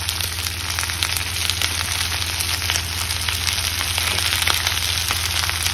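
Chopped capsicum sizzles steadily in a hot frying pan for chilli paneer, a loud continuous frying hiss with small crackles and no talking.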